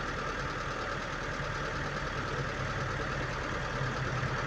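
A car engine idling high from a faulty idle speed control valve: a steady, moderately quiet mechanical hum with faint knocking texture, running continuously without pause.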